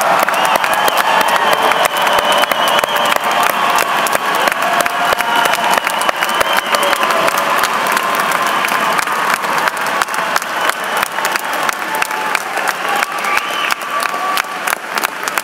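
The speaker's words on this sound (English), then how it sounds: "Let us all give one more round of applause to these wonderful graduates" Commencement audience at the Temple Law School Class of 2018 ceremony applauding the graduates, a large crowd producing a long, dense, loud wave of clapping with occasional scattered cheers, sustained evenly throughout.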